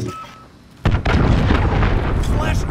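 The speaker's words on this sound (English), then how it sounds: "Allied cruise missile launched." Cruise missile strike explosions in Call of Duty Modern Warfare, a quiet lead-in, then a sudden loud booming blast at about the one-second mark that rolls on into sustained rumbling debris and noise.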